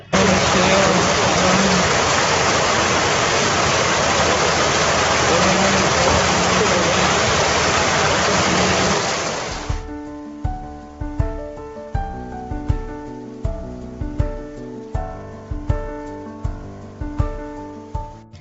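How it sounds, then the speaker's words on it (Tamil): Heavy rain pours in a dense, loud, continuous wash for about ten seconds, then breaks off and gives way to a string of sharp, evenly spaced percussive hits. "பந்தலூர் சுற்றுவட்டார பகுதிகளில் நேற்று மாலை முதல் இரவு வரை கனமழை கொட்டியது"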